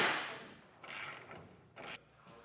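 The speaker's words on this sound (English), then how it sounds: "everything will get tightened up with a 17mm socket" A ratchet with a 17mm socket tightens a flat washer, lock washer and nylock nut on a truck bed ladder rack, giving a few short, close clicking bursts in a quiet space.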